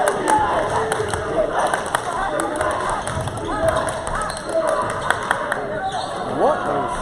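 A college men's basketball crowd in a gym cheers and murmurs, with sharp ball bounces and squeaks cutting through, while an announcer talks over the noise.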